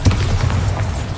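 Bombarda spell exploding in the Hogwarts Legacy video game, a loud, deep, rumbling boom that fills the short moment with low thunder.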